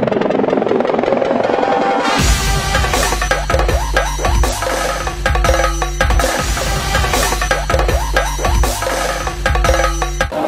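A helicopter carrying a groom at a wedding starts up after a brief moment and keeps going loud and close, with a rhythmic thumping of rotor blades over a constant drone.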